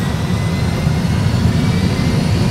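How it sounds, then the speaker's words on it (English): Airbus A320 jet engines at takeoff thrust, a loud, steady broadband roar with a deep rumbling low end, continuous and unbroken throughout. "Takeoff thrust set."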